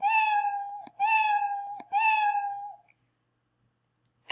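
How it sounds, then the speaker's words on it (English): Three drawn-out cat meows from the Scratch programming software's built-in sound play in an even sequence, each clear and close, followed by near silence. "And that is the sound your kitty cat can make."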